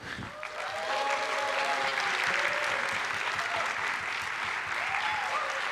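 Crowd applause at a voice actor panel during a pony fan convention in Holland, a thick, steady roar of clapping with faint voices mixed in, sustained and close.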